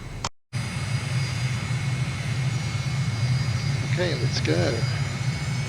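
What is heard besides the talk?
MiG jet engine at takeoff, Microsoft Flight Simulator video game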